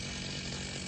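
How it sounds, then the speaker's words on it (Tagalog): The engine of a grass cutter warms up in a backyard, giving a loud, steady, rough mechanical drone that continues without a break. "habang pinapainit ko yung makina ng grass cutter natin or engine ng grass cutter natin"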